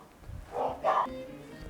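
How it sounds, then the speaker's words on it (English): Dogs barking a couple of times at moderate distance, short muffled woofs in a quiet indoor room, with a faint voice alongside. "there was dogs barking, so I didn't want them to take over"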